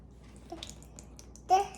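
A toddler pours water into an open cup. Quiet babbling and small sounds lead up to a brief, close splash of water near the end.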